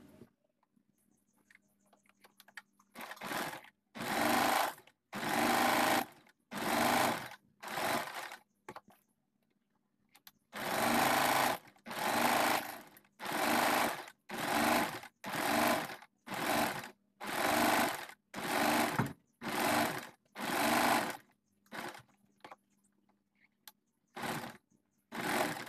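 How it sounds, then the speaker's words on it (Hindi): Sewing machine stitching around a fabric neckline in repeated bursts of fast whirring, each a second or so long with short gaps between, close and clear with no talk. "अब हम इस कपड़े को इस तरह से फोल्ड करते हुए इस पूरे नेक में सिलाई लगा लेंगे"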